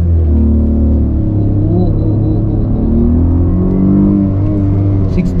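Suzuki Swift 2024 launching hard from a standstill with traction control off, a loud, steady close engine drone as revs climb, on a busy road.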